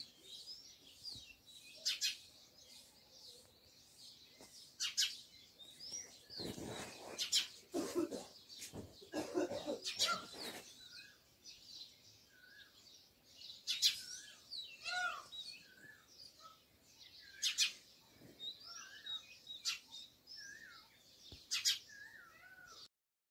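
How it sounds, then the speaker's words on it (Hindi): Small birds chirp and tweet in the early morning outside a home, with scattered short calls repeating near and far over a quiet background. "प्यारी सी सुबह हो चुकी है और चिड़ियाँ चहचहा रही हैं।"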